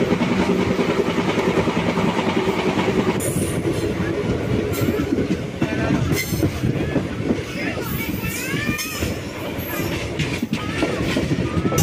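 The Krishna Express runs on the rails near Warangal, giving a loud, continuous rumble with rhythmic wheel clatter and bursts of high metallic squealing.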